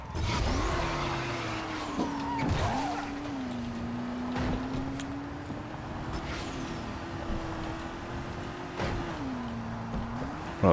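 Car engine in the video game Dying Light, damaged and failing, holding a steady droning note that dips and rises with throttle changes, accompanied by rattling and thumps from the vehicle throughout.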